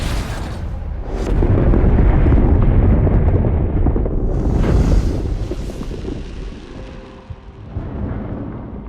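A huge explosion from the action film 13 Hours booms with a loud, rumbling roar that swells and then slowly trails off into a lingering low wash, with no voices.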